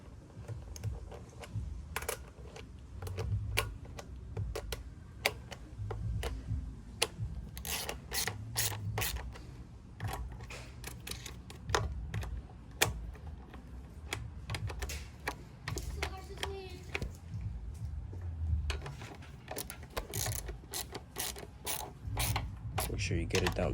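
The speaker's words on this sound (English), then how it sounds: "Now you need to tighten it down" Screws on a minibike's air filter and throttle assembly are tightened down, producing a run of small, close metallic clicks and ratcheting ticks over a low background rumble.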